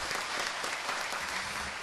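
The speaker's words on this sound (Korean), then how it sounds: "이분들 정말 여러분들 격려하고 축하해 주시는 박수를 좀 이렇게" A church congregation claps for newly installed deaconesses at a thanksgiving service, a brief, moderately quiet burst of many hands applauding steadily.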